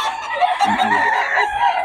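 Gamefowl chickens, with a rooster crowing loudly and close by, the drawn-out call filling the moment with clucking hens underneath.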